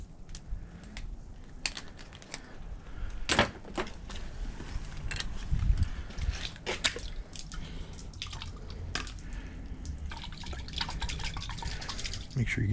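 Water dripping and trickling as a Joolca shower system in a Sprinter van conversion is drained, irregular close drips and splats with handling knocks, under a quiet background.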